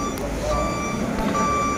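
A Kato KA1200 mobile crane sounds its reversing alarm, a few regular beeps repeating over a low background engine rumble with faint outdoor noise.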